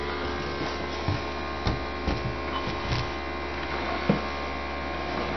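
A small compressor from a cheap Chinese airbrush kit, resting on a towel, runs with a steady low electrical hum and faint rattling clicks, fairly quiet and continuous with no talking.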